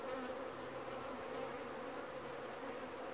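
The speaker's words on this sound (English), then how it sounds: "there's so many bees here, it's going to be hard not to squish them" Honey bees drone around an opened single hive in September on the island of Newfoundland, a dense, steady buzzing swarm that is close and continuous.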